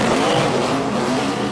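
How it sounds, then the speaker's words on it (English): Race trucks on pit road at the Monster Mile, a loud close engine roar sweeping past with tire noise in one brief burst. "trucks go driving past them"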